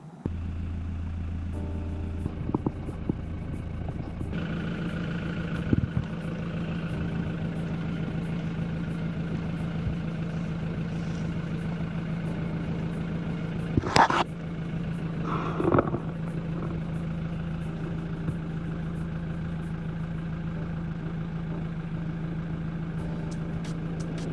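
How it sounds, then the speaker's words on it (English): A car engine idles with a steady low hum and drone, broken by a few short clicks and knocks. "make sure that the engine is running"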